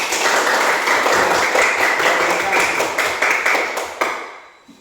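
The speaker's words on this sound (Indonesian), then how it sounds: "Kita beri tepuk tangan di kelompok 3" Applause from a classroom for group 3's presentation, a dense, steady round of many hands clapping close by for about four seconds before it tapers and stops abruptly.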